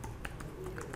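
Soft, quick keystrokes on a computer keyboard while typing in Visual Studio Code, a handful of faint close taps in about a second over low background hum.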